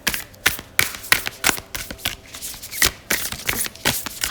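Oracle cards are shuffled in a steady run of crisp, close riffling slaps, repeating every fraction of a second without any talk.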